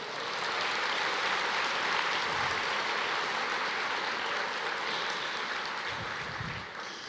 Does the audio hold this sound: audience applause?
yes